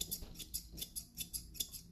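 Scissors point-cutting face-framing hair layers, a quick series of about a dozen crisp, close snips in steady rhythm with no talking.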